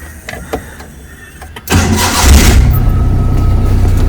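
A few faint clicks, then a Maruti Suzuki Omni van engine cranks and catches, settling into a loud, steady idle close by.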